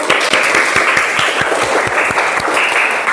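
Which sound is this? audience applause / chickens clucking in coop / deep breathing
audience applause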